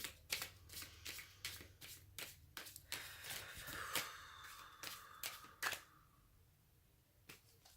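Tarot cards being shuffled by hand, a run of crisp riffling bursts and soft slaps in a close, quiet room, ending in a few sparse taps.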